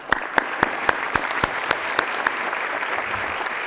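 An audience at a high school IB pinning ceremony applauds the IB department staff, a steady dense clapping wash with a few sharp, regular louder claps standing out near the front throughout.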